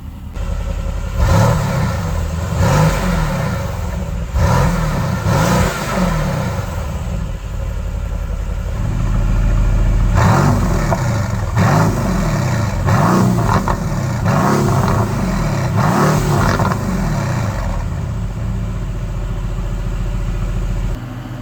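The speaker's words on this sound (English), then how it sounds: "You'll hear a cold start, then you'll hear a warm rev" A 2021 Mercedes-AMG GT convertible fires up from cold and settles into a rumbling idle, then its engine is revved repeatedly when warm, each loud blip rising and falling in quick succession, close by with no talk.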